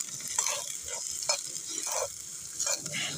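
Chopped onion sizzles and crackles in hot oil in a pan outdoors, with a utensil stirring and scraping now and then over a steady frying hiss.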